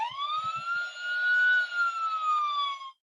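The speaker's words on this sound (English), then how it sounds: "was a siren." A small sound-effect keyring plays an electronic siren tone that rises and holds in a steady wail for about three seconds, close and fairly loud, with a few faint clicks of fumbling at the start before it cuts off abruptly.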